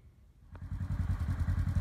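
A 2019 Polaris General UTV climbs a steep driveway, its engine starting faintly and then throbbing louder in a quick, rhythmic pulse with a rattling, mid-pitched tone.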